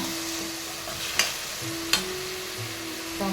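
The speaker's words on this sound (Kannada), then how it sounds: "ಟೊಮೊಟೊ ಎಣ್ಣೆ ಬಿಡೋರಿಗೆ ಸ್ವಲ್ಪ ಬೇಯಿಸ್ಕೊಳ್ಳೋಣ" Tomatoes cook in oil in a pan for a chana masala gravy, giving a soft, steady sizzle with a couple of sharp clicks from stirring and a faint hum underneath.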